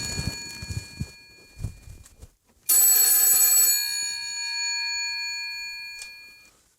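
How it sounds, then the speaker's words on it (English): Brief talk at first, then a telephone bell rings loudly and close, its bright metallic tone lingering and slowly fading. "Oh, that sounds like the telephone."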